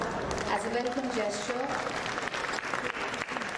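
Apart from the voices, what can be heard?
audience applause welcoming ministers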